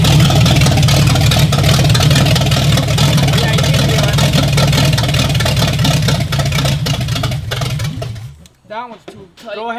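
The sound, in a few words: engine idling during valve adjustment on Rambler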